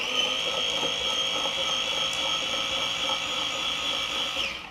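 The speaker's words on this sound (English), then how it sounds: "So it's just grating the mess out of it" An Aceshin electric slicer, grater and grinder runs with a steady high motor whine while grating food, loud and close, continuous throughout and cutting off at the very end.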